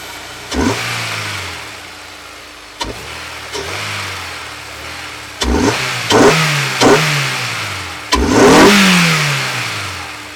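Honda S2000 AP1 with a K&N intake fitted, the engine cranking and firing up, then a series of sharp blips and revs rising and falling, close and loud with no talk.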